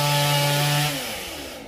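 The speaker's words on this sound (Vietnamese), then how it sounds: "Anh Tùng sẽ cưa cái nhánh lớn nha các bạn" A chainsaw whines at high revs as it bites through a large branch of a tropical almond tree, then its pitch drops and the roar fades as the cut finishes.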